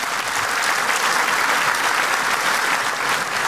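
A TV show studio audience claps in a dense, steady burst of applause that fills the room evenly from start to finish, loud and sustained with no break.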